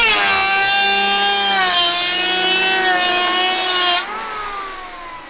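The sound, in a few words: cordless Makita or corded Bosch planer planing wood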